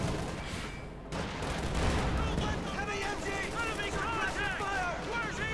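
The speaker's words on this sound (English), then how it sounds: "Panzer 4 firing in." A Panzer IV tank and other units fire during a Company of Heroes 2 match, with dense, overlapping gunfire and explosions under a commentator's continuous talk.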